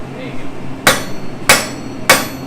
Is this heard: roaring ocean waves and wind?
no